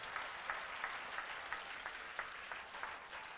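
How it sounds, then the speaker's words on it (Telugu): A congregation at a live anointing worship service applauds in praise, soft diffuse clapping with some sharper individual claps in a fairly regular pattern, distant and faint throughout. "చేతులు పైకెత్తి గట్టిగా చప్పట్లు కొట్టి ప్రభుని స్తుతిందాం"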